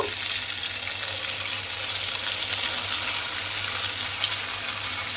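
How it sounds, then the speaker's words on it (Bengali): Small pieces of rice-paste and potato snack batter fry in oil over low gas, giving a steady, close, continuous sizzle and bubbling hiss with no pauses. "আর গ্যাসটা লোতে দিয়েই কিন্তু এইভাবে একটু ভেজে নিতে হবে"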